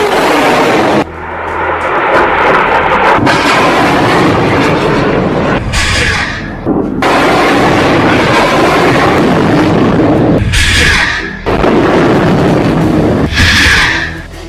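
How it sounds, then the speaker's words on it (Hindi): Hamas rockets launched one after another, loud roaring whooshes and rumbling blasts in repeated bursts separated by brief drops, sustained and harsh. "एक के बाद एक हमास 10 रॉकेट फायर करता है।"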